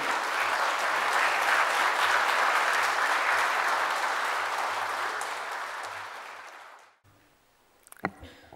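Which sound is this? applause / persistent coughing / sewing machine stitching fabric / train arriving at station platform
applause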